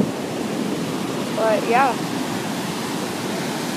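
Ocean surf rolling in at El Porto, Manhattan Beach, at high tide with some seaweed on the shore: a steady broadband wash of waves, continuous and moderately loud, with a brief spoken comment over it.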